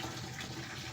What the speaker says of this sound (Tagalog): Isang jug na lang po yung pupunuin natin.